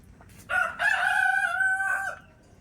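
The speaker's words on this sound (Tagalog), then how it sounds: "Marami kami nalagaan manok dito." A rooster at a rural provincial farm gives one clear, loud crow that rises and holds for about a second and a half, close by, with no talk.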